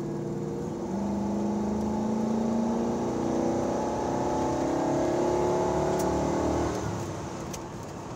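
A 1996 Chevy Impala SS accelerates from inside the cabin, its engine droning and rising steadily in pitch through a long pull of several seconds, loud and continuous before easing off at the end.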